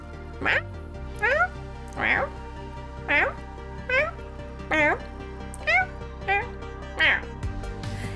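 A cat meows over and over, about nine clear, evenly spaced cries over a low steady hum.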